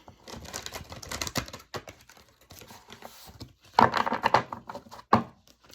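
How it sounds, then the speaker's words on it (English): Tarot cards are shuffled by hand close up, with quick papery riffles and soft slaps coming in uneven bursts, louder clusters near the end separated by brief quiet gaps. "I'm just looking at these cards while I'm shuffling these"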